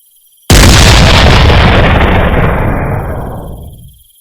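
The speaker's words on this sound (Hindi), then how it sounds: "तभी दोबारा तोप गरजी।" A cannon fires once with a sudden, loud blast that cuts in from near silence, then rumbles and decays over about three seconds into quiet.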